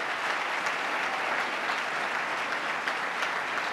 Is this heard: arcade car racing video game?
no